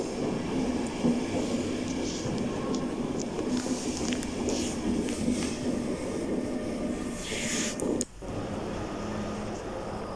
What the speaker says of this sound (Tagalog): Ayan na yung train mga kapatid, nandito na.